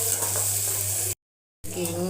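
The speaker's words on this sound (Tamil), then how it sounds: "இப்போ நல்லா வதக்கிக்கலாம்" Curry leaves and onions sizzle steadily in a pan, a close, even frying hiss that drops out briefly before resuming.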